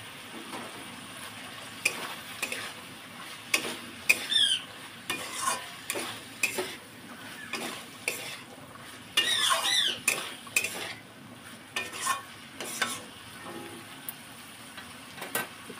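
Chicken with vegetables and green chilies is stir-fried in a pan: a faint steady sizzle under repeated metallic spatula scrapes and clinks at an irregular rhythm.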